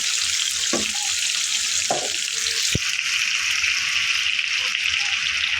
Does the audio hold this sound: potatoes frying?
yes